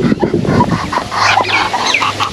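Ducks in a Sundarbans village, giving loud, close, rapid quacking and clucking calls in overlapping bursts from several birds, fairly busy throughout.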